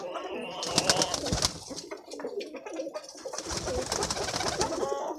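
Pigeons for sale cooing close by, soft repeated throaty coos overlapping with sharp chirps and rustling, fairly quiet, with faint background voices.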